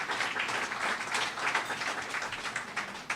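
Sustained audience applause at a fundraiser gala for drug abuse prevention, a dense steady wash of many hands clapping with no talk over it.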